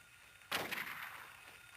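Single gunshot in the Silent Hill video game: one sharp crack breaks a quiet background, followed by a short ringing decay that fades over about a second.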